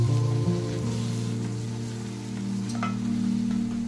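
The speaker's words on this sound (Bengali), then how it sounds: "তখন আমি ওই পেস্টটা দিয়ে লো ফ্লেমে ভালো করে কষাতে থাকব।" Tomato and eggplant frying on a low flame with a spice paste, a soft, steady sizzle that carries on continuously over a low, even background hum.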